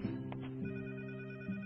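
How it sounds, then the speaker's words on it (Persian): A telephone rings in a Tajik-language drama scene, a steady electronic ringing tone held throughout with slight pulses, fairly loud and with no talking. "تلفن رو بردار."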